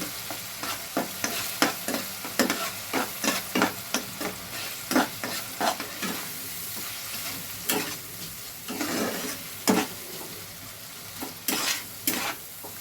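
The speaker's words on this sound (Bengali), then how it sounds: "তেল না ছাড়া অবধি এটাকে কষবো, যতক্ষণ না তেল ছাড়ছে ততক্ষণ এটা কষতে থাকবো।" Spice masala frying in oil over low heat, stirred steadily in repeated scraping strokes against the pan, a soft sizzle running underneath, close and moderately quiet with no voices.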